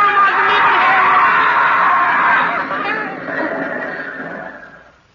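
Horse whinnies loudly and at length in a radio drama scene, a long shrill neigh that trails off over a few seconds with a murmur of voices beneath.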